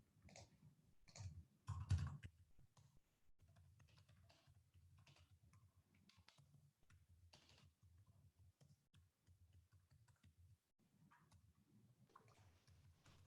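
Typing on a computer keyboard at home, steady quiet clicks of keys with a brief louder burst near the start, then irregular tapping continuing for several seconds, close and faint, with no talking.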